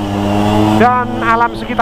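A motorcycle fitted with a KY26 racing exhaust revs in short bursts, its sharp rising engine notes cutting through a steady low idle rumble, close by, while a person talks over it.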